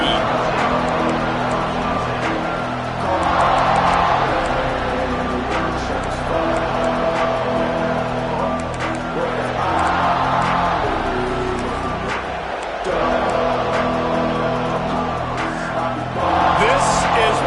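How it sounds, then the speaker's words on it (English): College football stadium crowd, a broad continuous roar of cheering that swells in waves, with play-by-play commentary running over it. "This crowd ready to make its presence known"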